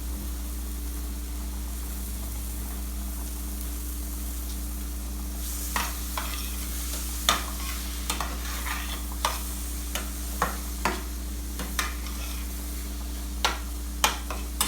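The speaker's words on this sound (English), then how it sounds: "keep on stirring in between, because this pan really the ingredient sticks to the pan, and I'll be adding a little more butter" Pav bhaji mixture cooks with butter in a pan where it sticks, sizzling steadily at close range while a spatula scrapes and taps the pan in irregular clicks, more often in the second half; no one speaks.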